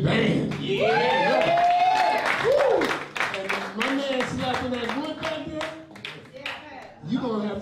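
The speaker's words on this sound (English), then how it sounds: "One more round of applause for this great band." Audience applause and scattered cheering for a jazz band at a club tribute concert, loud at first and fading, mixed with someone talking over the crowd.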